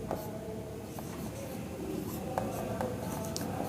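Chalk or marker scratching across a board during a classroom reasoning lesson on calendars, a faint steady scribble with soft taps and stroke clicks, no one talking.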